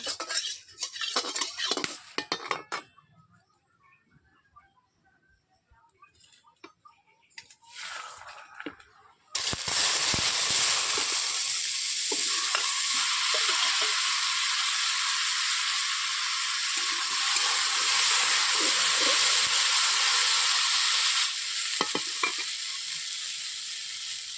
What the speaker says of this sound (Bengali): হালকা করে সেদ্ধ করে রেখেছিলাম, ওগুলোকে আমি ভেজে নেব